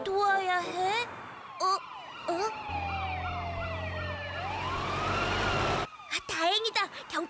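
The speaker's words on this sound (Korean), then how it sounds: "다행이다. 경찰차가 왔어." A cartoon police car siren wails in rising and falling sweeps under an engine rumble, loud and near, with people speaking before and after it.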